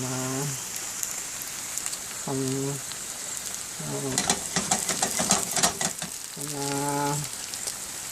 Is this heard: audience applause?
no